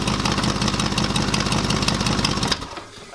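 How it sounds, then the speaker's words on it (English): A Nissan Xterra engine with an exhaust leak runs roughly and loudly with a rapid popping, sputtering exhaust note, then cuts out abruptly near the end. "That sounds terrible with that exhaust leak."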